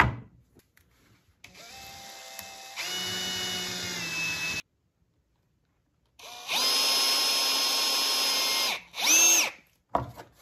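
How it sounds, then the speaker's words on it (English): A power drill whirs close up in two long runs, its pitch climbing as it bites into wood, then a short final burst. "we need to pre-drill here through the center"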